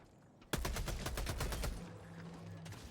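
A rapid burst of SMG fire in the video game Helldivers 2, about a second of fast automatic shots at steady rhythm, then a fading tail with a faint hum afterward.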